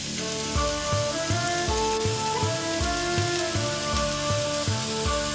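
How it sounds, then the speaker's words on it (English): Onion or shallots sauté in a pan beside saffron milk cap mushrooms, sizzling steadily and close up, with regular soft knocks or scrapes repeating about twice a second throughout. "Followed by some onion or some shallots. Just saute it for about a minute or two."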